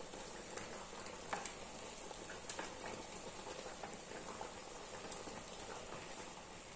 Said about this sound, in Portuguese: E olha o frango, quanto caldo que ajuntou.